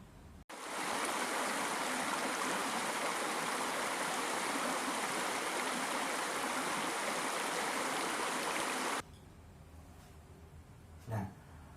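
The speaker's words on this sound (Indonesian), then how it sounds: "aliran air" Steady, full rush of a flowing water stream fills most of the stretch, loud and even, then cuts off abruptly, leaving a quiet background with a faint brief knock near the end.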